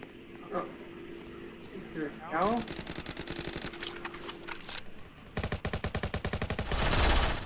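Rapid bursts of automatic gunfire in Roblox Jailbreak, starting midway and repeating in quick rattling volleys, with game sounds before them.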